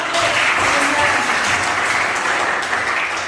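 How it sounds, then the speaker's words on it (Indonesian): A classroom full of students claps loudly and continuously for a few seconds, a dense, close applause with no pauses. "Luar biasa, tepuk tangan"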